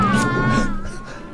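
A cat meows in a 1973 werewolf film, a drawn-out tonal cry with a wavering pitch, close and fairly loud over a low background hum, fading toward the end.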